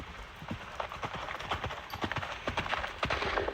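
Horse hooves shuffle and clop on the ground in a steady, busy patter at a roping practice, fairly close, with faint outdoor background and no speech.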